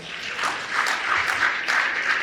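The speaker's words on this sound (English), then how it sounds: "Please, ladies and gentlemen, can we give them a round of applause?" Audience applause at a ceremony marking ten years of the Plateau State Peace Building Agency, honouring the agency's staff; a steady wash of clapping from a crowd for a couple of seconds, with no voices over it.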